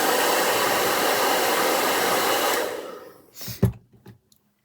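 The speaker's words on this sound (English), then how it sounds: "So, let's just dry this off." A hair dryer blows loud and steady close up while drying off a sound machine, then cuts out, followed by a few clunks and handling knocks.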